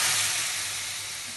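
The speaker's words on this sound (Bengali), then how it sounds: "সজনে ডাল রান্না করতেছি।" Drumstick (moringa) lentil dal cooking in a pan gives off a steady, close, loud sizzle with a soft hiss throughout and no talking.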